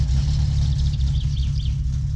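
Car engine idling in the driving simulator game My Summer Car, a steady low rumble that holds loud and even throughout, with a faint higher whine above it.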